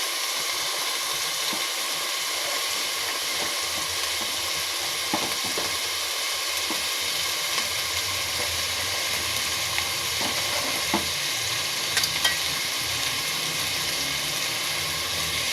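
Panch phoron spices frying in hot oil with cloves and black pepper make a continuous sizzle and hiss, broken by scraping taps of stirring in the pan.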